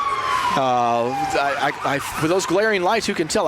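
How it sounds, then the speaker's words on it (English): Police car sirens wail at a 2023 Christmas parade in Humphreys County, Tennessee, with a falling tone near the start, heard close beneath someone speaking. "we got the sirens going off here"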